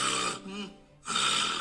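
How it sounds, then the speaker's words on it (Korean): A sleeping person snores loudly at close range in two long rasping breaths separated by a quieter gurgling, near-silent pause, recorded at a centre studying snoring. "다양한 코골이 소리가 들려오는 이곳은 코골이의 개선 방법을 개발 중인 센터."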